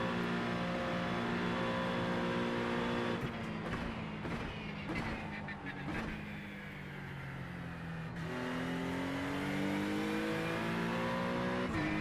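Ford Mustang race car engine in the iRacing sim, a steady loud drone with harmonics rising and falling through gear changes and revs, a brief dip and rough transient mid-stretch, then climbing again.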